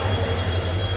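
Constant low droning hum inside the moving Puri Superfast Express train, 12887, steady and near throughout with no talking.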